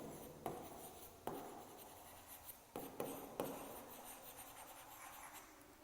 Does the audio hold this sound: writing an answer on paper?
yes